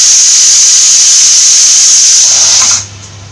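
A pressure cooker holding Kerala-style mutton stew vents steam in a loud, steady, high hiss that runs for almost three seconds before cutting off abruptly into near quiet.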